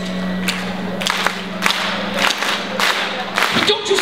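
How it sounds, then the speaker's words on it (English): Live audience at a VidCon concert claps a steady rhythmic pattern in a pre-chorus, sharp group claps landing roughly every half second over a low hum and crowd murmur. "there's a little special clap that happens in the pre-chorus"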